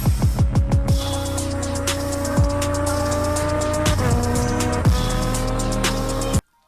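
A Lamborghini Huracán EVO revs hard, opening with a quick string of sharp throttle blips, then holding loud, rising wails broken by brief gear-change dips before cutting off abruptly. The exhaust sounds close and there is no talking.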